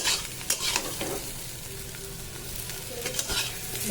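Spices with coriander powder being stirred in a hot pan, a steady sizzle with scraping strokes of a spoon or spatula, a few sharper knocks, close and fairly loud, no voices.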